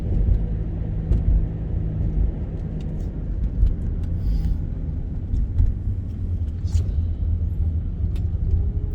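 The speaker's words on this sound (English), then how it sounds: "it has a classic wheel bearing noise" A worn wheel bearing on a moving car gives a steady low rumbling drone inside the cabin, continuous and fairly loud, with scattered light knocks and rattles and no talking.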